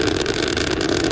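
Space Shuttle Challenger's engines roar during the STS-7 launch, a loud steady rumbling hiss filling the short moment with no voices over it.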